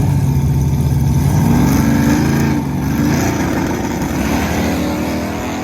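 A heavy nitrous Chevrolet Malibu drag car launches down the strip, its engine a loud, dense roar from start to finish, easing slightly in level as the car pulls away, with no voices over it.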